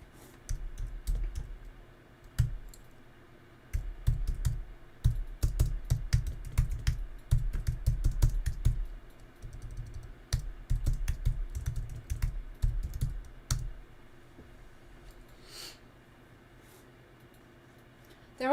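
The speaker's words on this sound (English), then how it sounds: "let me type it up for you, Will." Typing on a computer keyboard during a live pencil drawing session of an ocelot, with steady runs of close, crisp key clicks and short pauses, ending in a quieter stretch, with no talking.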